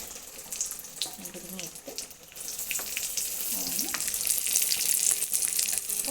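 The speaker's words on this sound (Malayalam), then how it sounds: "നെയ്യ് നന്നായിട്ട് മൂത്തിട്ടുണ്ട് അതിനകത്ത് നമ്മൾ അണ്ടിപ്പരിപ്പ് ഇട്ട് കൊടുത്ത്" Cashews and raisins fry in homemade ghee, giving a continuous close sizzle that grows louder toward the end, with light stirring and a brief faint voice early on.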